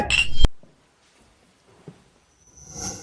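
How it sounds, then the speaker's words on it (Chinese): Wine glasses clink together in a single sharp, bright ring at a wedding banquet toast, followed by near silence and then faint room noise. "这杯酒敬龙家，干杯！"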